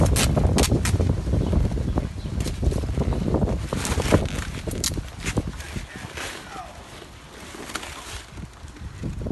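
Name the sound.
wind blowing outdoors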